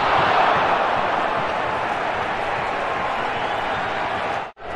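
A stadium crowd at a Minnesota United vs. Sporting Kansas City soccer match cheers loudly and continuously, then the noise cuts out abruptly for a moment near the end before resuming.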